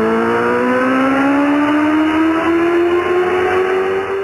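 A car engine at high speed on a Tbilisi street at night, loud and close, its pitch climbing steadily as it accelerates and stays constant throughout, with no voices.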